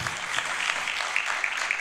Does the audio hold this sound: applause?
yes